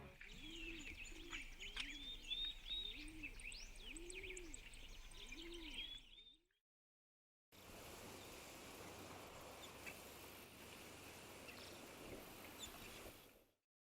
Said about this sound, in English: One is ambient sounds of birds in nature.